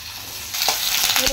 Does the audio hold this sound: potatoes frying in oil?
yes